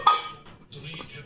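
A small child bangs steel utensils and dishes at home, giving one loud clattering clang followed by softer scattered metallic clinks over about a second.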